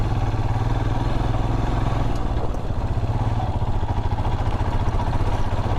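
A two-wheeler engine labours hard under load while riding, a steady loud mid-pitched drone with rattling clatter running throughout, close and continuous with no voices.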